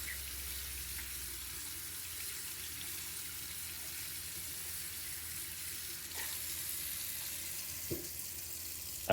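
Hot tap water runs steadily from a kitchen faucet while an apple is rinsed under it, a constant close hiss with a few faint knocks toward the end.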